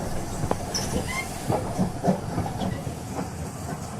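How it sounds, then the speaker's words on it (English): A train coasting into a small station, a steady low rumble of rolling wheels with soft clacks and faint squealing hisses, fairly distant and even, with no voices. "The momentum of the train begins to lessen, and it soon comes to a stop at a small, dimly lit station."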